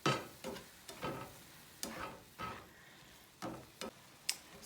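A seasoned shrimp mixture for tacos gobernador is stirred in a frying pan: repeated scraping strokes land about every half second over a faint, steady sizzle.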